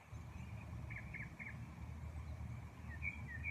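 Pet birds chirping indoors in the morning give a few faint, short chirps: a quick triplet, then a pause and another pair of chirps over a low background hum.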